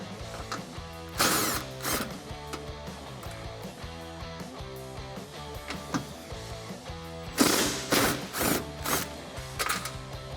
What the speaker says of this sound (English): You're going to need a 13mm socket to undo these.